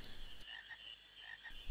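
Frogs croak in Final Fantasy IX, a steady chorus of soft, repeated croaks with a few louder pulses over quiet game ambience; no speech.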